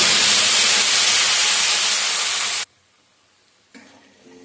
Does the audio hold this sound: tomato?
yes